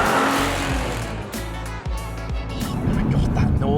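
A Jaguar F-Type SVR's V8 engine and exhaust rumble loudly and continuously from inside the car, rising and dipping with throttle through a couple of brief shift-like breaks, with a person talking over it.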